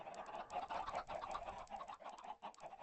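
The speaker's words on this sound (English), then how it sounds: "when that dispenser's shooting eggs, this fills up and the chickens just pop right out." Many chickens cluck in the Minecraft modpack Hexxit, a busy overlapping chorus of short mid-pitched clucks repeating throughout, moderately close and not very loud.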